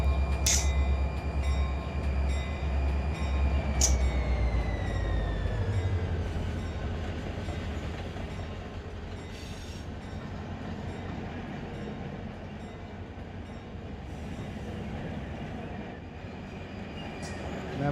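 Freight train in the Run 8 train simulator game pulling forward out of a rail yard, a steady rumbling drone with a bright whistle-like tone early on and a faint squeal, continuous and fairly loud with no talking.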